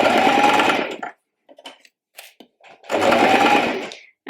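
A domestic sewing machine stitches a jumpsuit seam in two loud, steady whirring bursts, separated by a pause filled with soft handling clicks and rustles of fabric.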